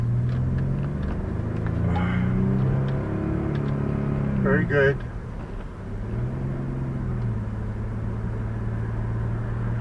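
Evening rush-hour road traffic rolls past with a steady engine rumble and a vehicle accelerating close by, while people talk over it.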